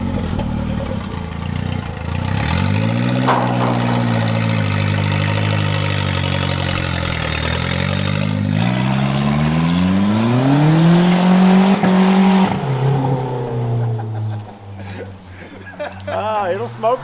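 Car engine fitted with a cheap Amazon turbo, revving repeatedly, climbing and falling in pitch with a loud, sustained drone and a strong surge near the end before settling back toward idle.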